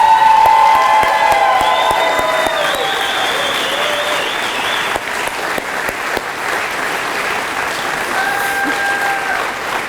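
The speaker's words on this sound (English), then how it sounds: "Please give them a round of applause." A crowd gives loud, sustained applause at an election night gathering, with whistles and cheers rising early on and continuous clapping holding steady throughout.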